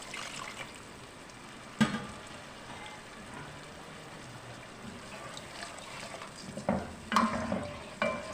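Mutton paya masala simmers in a pot after water is added to the fried spices, giving a quiet steady sizzle and bubbling with a few sharper clinks of stirring.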